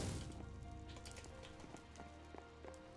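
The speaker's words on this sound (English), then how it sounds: "Oh, it's raining." Steady rain falls in a Minecraft world, a soft constant patter with faint scattered drips, heard alone at low volume.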